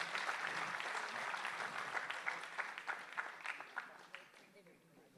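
An audience claps for Ms. Leena Mogre at a fitness school anniversary celebration, a quiet, dense patter that thins into scattered individual claps as it fades out.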